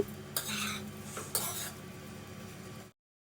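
A spoon scrapes and clinks in a pan as egg fried rice with masala is stirred, two quick bursts over a quiet sizzle that stops abruptly.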